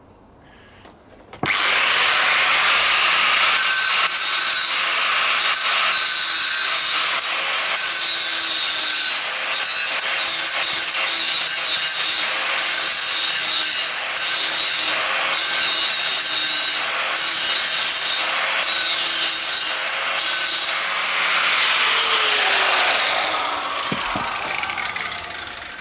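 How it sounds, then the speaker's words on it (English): An angle grinder cuts away snapped welded bolts on a steam locomotive wagon grill, a loud, steady, high-pitched metal grinding that runs unbroken for about 25 seconds with no talking. "So I'm going to grind that off"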